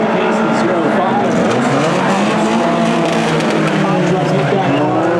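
Race cars roar around a track in a Hornet-class race, their engines loud and continuous with faint tire squeal, under an announcer calling the laps.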